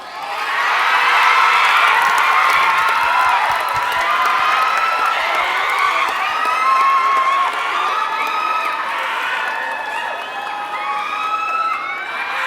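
At a Miss Grand Saraburi beauty pageant audition, a crowd claps and screams a contestant's name, with loud, sustained high-pitched shrieks and cheering over scattered clapping that continues for over twelve seconds.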